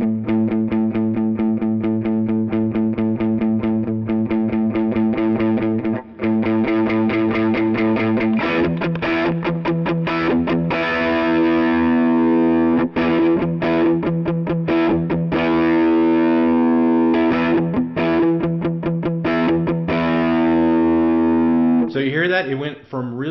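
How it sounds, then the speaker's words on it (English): An electric guitar played through an Outlaw Dumbleweed overdrive pedal, with its voice knob being turned, gives a long stretch of loud, sustained overdriven chords and notes whose tone shifts partway through, with no pauses. "Just start playing with that voice knob, and you're going to hear a huge difference in the way that it shapes the overdrive sound"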